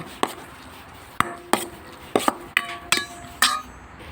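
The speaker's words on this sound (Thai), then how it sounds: "ใส่เครื่องปรุงครบครบแล้วก็คลุกเคล้าให้เข้ากันค่ะ" Thai cucumber salad is tossed with its seasonings in a bowl, giving about eight sharp, irregular knocks and clinks of utensil against the bowl, close and distinct with short pauses between them.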